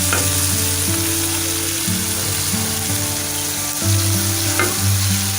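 Onions fry in a hot pan, a loud continuous sizzle with occasional stirring scrapes while they cook until browned; steady throughout with a low humming tone in the background.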